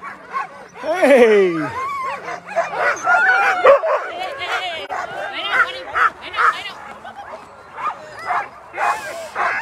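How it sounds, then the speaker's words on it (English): Alaskan sled dogs at the Willow race start yip, bark and whine in an excited, overlapping chorus, close and busy, with a person speaking briefly among them. "Look at these beautiful dogs."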